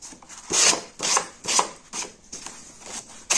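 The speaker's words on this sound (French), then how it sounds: "Vous passez l'éponge comme ceci pour gratter ce qui dépasse" Rhythmic rough scrubbing strokes of a green dish sponge rubbing against paper edges of a scrapbook album, about seven short bursts in a steady back-and-forth pattern, close up and fairly loud.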